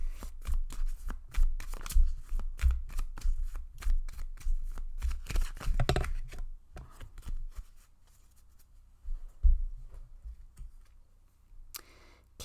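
Tarot cards shuffled and drawn for a pick-a-card reading: quick riffling and flicking bursts close up, then a quieter stretch with a few isolated card snaps and slides.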